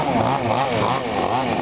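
A chainsaw roars steadily at close range, its engine pitch wavering as it cuts through a stick, loud and continuous throughout.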